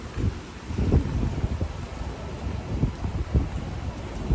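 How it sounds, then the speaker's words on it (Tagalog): Strong wind buffets the microphone in a steady low roar with gusty surges throughout, and no voices are heard. "Lakas ng hangin guys."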